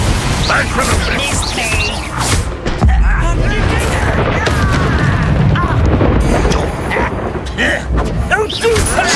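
Bombarda spell explosion in the Hogwarts Legacy video game, heavy booming blasts and crashing debris amid a dense battle din, with a character's voice shouting over the fighting.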